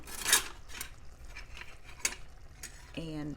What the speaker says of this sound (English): We're going to get a ladle